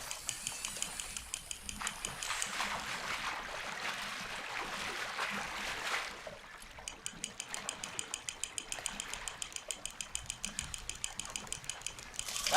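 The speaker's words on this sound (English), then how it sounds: "That's because you weren't reeling in like I was." Fishing reel in Red Dead Redemption 2 being wound in with a fast, steady ratcheting click that runs throughout, over a faint wash of flowing water.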